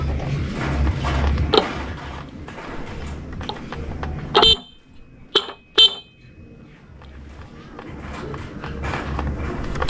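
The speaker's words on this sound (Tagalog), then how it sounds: "So subukan natin yung busina niya." Stock motorcycle horn without a relay sounds as three short, sharp honks partway through, separated by brief gaps, over steady background noise.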